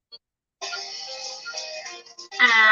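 A second phone that was not muted rings during a live stream, its tonal electronic ringtone sounding steadily close by for about two seconds and then growing louder and more harmonic.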